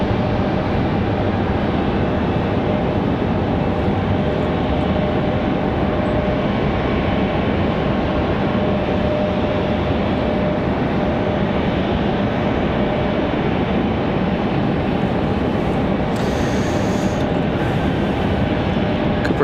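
An Air France Boeing 777 running up its jet engines at Raleigh-Durham International Airport: a steady, broad, distant roar that holds constant for the whole stretch with no talk over it.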